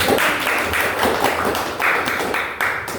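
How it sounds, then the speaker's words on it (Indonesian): A podcast studio audience applauds steadily for about three seconds, a dense patter of clapping hands, loud and close, with no talk over it. "Tepuk tangan dulu dong."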